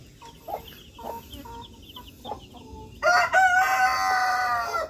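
Outdoor flock of chickens and roosters with baby chicks: soft clucks and chick peeps come in a scattered rhythm, then a rooster crows loudly and close, holding a long drawn-out call.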